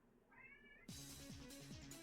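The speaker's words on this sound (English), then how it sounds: "meowing in the background" A cat meows in the background during a Digimon card game session, a faint drawn-out call that is soon covered by a louder, steady electronic hum with rhythmic tones.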